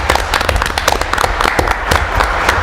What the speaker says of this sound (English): I think we all should give Larry a round of applause for donating his time.